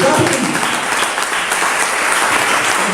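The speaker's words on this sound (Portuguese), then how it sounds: "Você pode aplaudir Jesus nessa noite?" A church congregation applauds during an evening worship service, loud continuous clapping filling the hall with a faint murmur of voices beneath.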